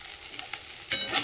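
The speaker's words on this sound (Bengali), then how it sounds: "দেখো বন্ধুরা, বিট আলুও ভাজা হয়ে গেছে, ভাজা হয়ে গেছে, নাড়িয়ে দেবো এবারে" Beetroot and potato frying in a pan, a soft steady sizzle that swells into a brief louder burst of stirring near the end, close by.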